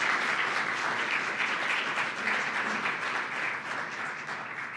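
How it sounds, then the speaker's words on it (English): Applause from a conference audience of researchers, a continuous wash of many hands clapping at an even level for the full stretch, moderately distant. "We're going to move on to applause for Maria"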